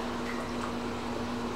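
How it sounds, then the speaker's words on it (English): Sanitizer liquid runs steadily out of a home brewing line attached to a plate-style heat exchanger, a continuous close splashing flow with a faint steady hum beneath it. "what I'm going to go ahead and do now is I'm going to flush all the sanitizer"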